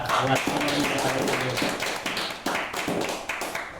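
Hand clapping in a podcast studio, a burst of sharp taps at close range mixed with voices chatting over the top.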